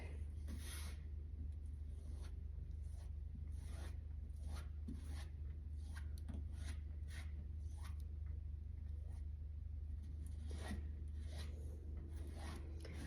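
A spreader drags gel ink across a mesh stencil taped onto a mailbox, making soft, repeated scraping and rubbing strokes that are faint and close over a low steady hum, with no speech.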